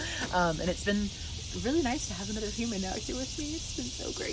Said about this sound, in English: But if you're asking about the cicadas, I didn't realize that's what that noise was.